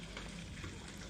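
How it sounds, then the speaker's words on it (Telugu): Curry leaves for a tempering fry in oil over a medium flame, giving off a soft, continuous sizzle that is faint and brief, with no voices. "కొద్ది కరివేపాకు అలా వేసుకొని దూరగా వేయించాలి"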